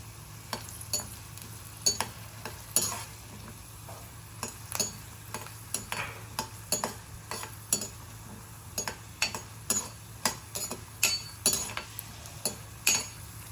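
Peanuts and cashews fry in hot oil for upma, a steady low sizzle broken by frequent sharp clinks and scrapes of a spoon stirring against the pan, close and moderately loud with no talk.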